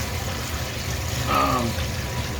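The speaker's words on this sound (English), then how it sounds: "we're going to pour our lard over our pork" Pre-melted lard is poured over pork in a cooking vessel, a steady liquid pour and trickle that rises briefly in the middle over a constant low background hum.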